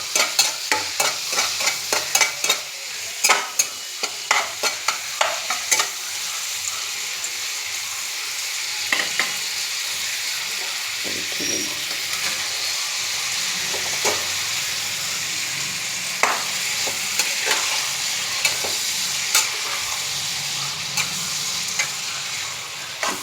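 Greens stirred in a pan with fried shrimp, the spatula scraping in irregular knocks over a constant close sizzle of frying that runs throughout.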